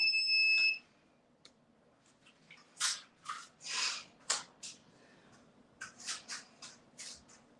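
A workout timer beeps in a steady high tone for under a second at the start. Sharp breathy exhalations and scattered soft clicks follow during glute bridge exercises in a quiet room.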